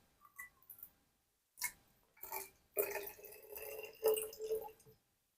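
Water is poured into a plastic spray bottle in a few short, faint bursts of trickling and splashing, broken by gaps, with small drips at the start.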